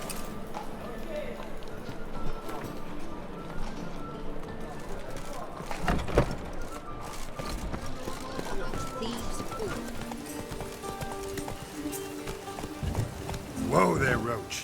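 Roach the horse from The Witcher 3 gallops with steady clip-clop hoofbeats through a busy game soundscape, with talk and ambient noise over it and a louder burst near the end.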